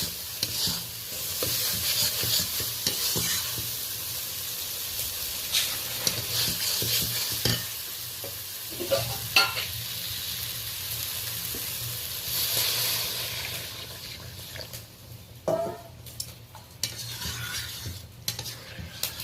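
Hot water poured into a fried spice paste for a pangas fish curry, the pan breaking into loud, hissing sizzle with stirring scrapes and bubbling, close and sustained, easing off in brief bursts near the end.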